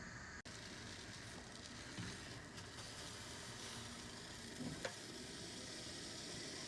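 Eggplants charring over an open flame, a faint steady hiss and sizzle with a few soft crackles and one brief click, no voices.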